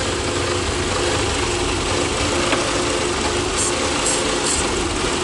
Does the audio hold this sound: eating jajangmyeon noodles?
no